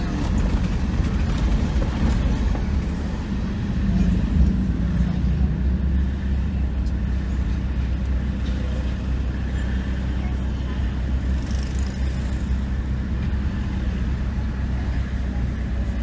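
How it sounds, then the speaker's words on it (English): Heavy traffic on Mountain View Avenue in Jamaica, a continuous low rumble of car, bus and truck engines close by, steady and loud the whole time, with faint voices mixed in. "Heavy traffic along Mountain View Avenue."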